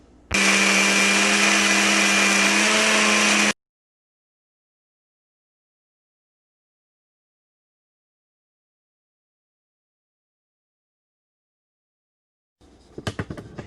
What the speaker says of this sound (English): now I'm going to put it through the blender